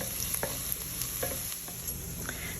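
Onions fry in a pan with a steady, close sizzling hiss, broken by a few soft scrapes and taps from stirring, and no voices.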